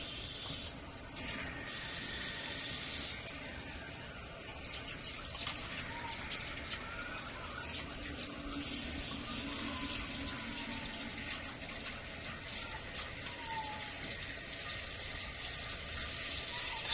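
Tap water runs steadily through a pair of RV inline water filters, a 5-micron Clear2O and a 20-micron DirtGUARD, giving a continuous hiss of flow with faint clatter and no speech.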